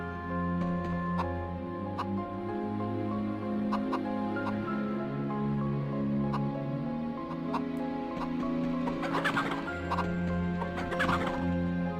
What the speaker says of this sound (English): You gotta guide all these chickens to the different food.